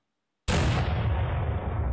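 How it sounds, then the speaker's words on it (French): A cannon fires as a sound effect in a tabletop role-playing game, one sudden loud boom after a moment of silence, followed by a sustained rumbling roar that fades slightly. "Vous entendez ce bruit de canon."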